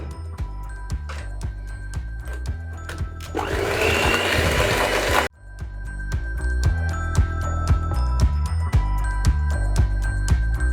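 An electric mixer beats cookie dough with egg yolk, a loud steady motor whir with rhythmic clatter of beaters against the bowl, briefly rising to a harsher, higher-pitched grind before settling back.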